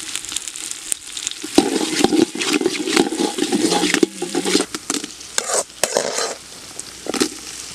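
Green chillies frying in a pan with curry leaves and onion while making curd rice, a steady sizzle with stirring and scraping over several seconds and no speech.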